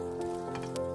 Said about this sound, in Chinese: 小火下入花椒和姜片，慢慢煸炒出香气